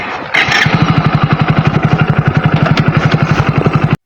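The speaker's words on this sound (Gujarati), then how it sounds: "અત્યારે રોડ બાજુ આવ્યો તો હું બાઇક લઈને એકલો" Motorcycle engine running while a lone rider heads down a road toward home, a steady loud pulsing throb of regular rapid firing beats close up, opening with a brief rev before settling into an even rhythm.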